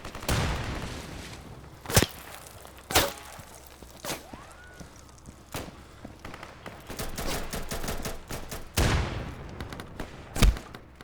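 Gunfire from teammates in the online game New World during player-versus-player combat, sharp loud shots in irregular bursts scattered across the clip, some near and some quieter, with no talk.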